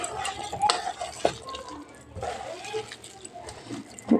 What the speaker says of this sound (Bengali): একদম অল্প পরিমাণ জল দিয়ে ভালোভাবে এটাকে মেখে নিলাম